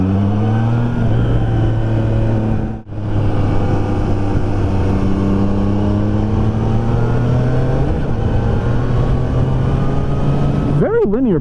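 A 2022 Triumph Trident 660 motorcycle pulls hard in second gear, its loud engine note climbing steadily through the revs, dipping for a moment at one point, then swelling again near the end.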